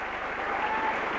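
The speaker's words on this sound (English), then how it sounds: "applause from all around the ground" Applause spreads all around the ground at a St Helens versus Hull KR rugby league match as two players leave the field, a steady dense clatter of stadium crowd clapping with no break.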